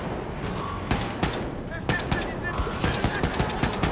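Rapid automatic gunfire rattles in the shooter game Wolfenstein II: The New Colossus, a fast even stream of close punchy shots, with talking faintly under it.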